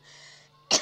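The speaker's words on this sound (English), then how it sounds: "I'm still got a little bit of a flu, so I'll be coughing a couple times." A person with the flu gives a single short, sharp cough close to the microphone after a moment of quiet.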